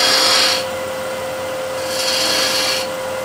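A spindle gouge cuts lightly inside a spinning walnut bowl on a wood lathe, giving a steady hissing scrape in two longer passes over a constant motor hum, with no talk.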